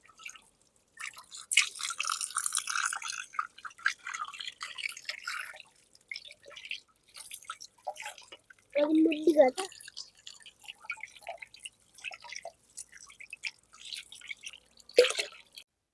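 Water splashes and drips irregularly as a whole chicken is washed under running water, faint and close, in scattered bursts with quieter gaps.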